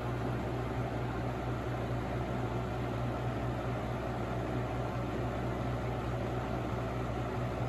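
A Holmes HABF-20 box fan from 1997, with its motor cleaned, runs on medium speed, giving a steady whooshing hum with a low motor drone, close and constant with no talk.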